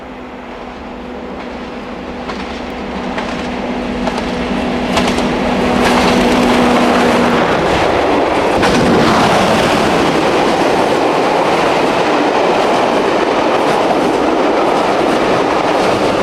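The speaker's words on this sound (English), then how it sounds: "we see Exeter as she passes Aller Vale" A Class 50 diesel locomotive hauls a freight special past on the Paignton line at Aller Vale, a loud engine roar building as it nears, then rolling wheel clatter and rumble filling the rest.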